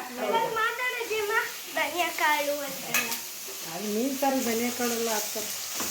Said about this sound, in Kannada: ಈಗ ಈರುಳ್ಳಿ ಫ್ರೈ ಆಗ್ತಾ ಇದೆ ನೋಡಿ